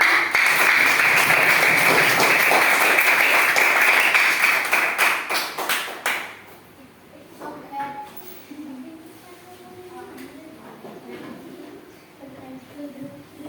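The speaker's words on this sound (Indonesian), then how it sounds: "Beri tepuk tangan untuk kalian semua." A school class claps together in loud, dense applause lasting about six seconds, then it cuts off abruptly and scattered voices and chatter follow.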